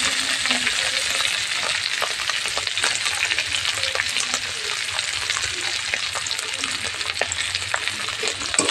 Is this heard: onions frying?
yes